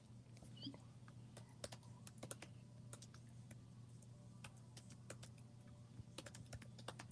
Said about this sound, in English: I'm just typing one more note.